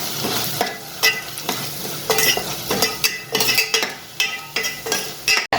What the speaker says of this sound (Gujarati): હવે બધા આપણે જે મસાલા લીધા છે બધા આપણે નાખીશું। આપણે હલાવી લઈશું પહેલાં।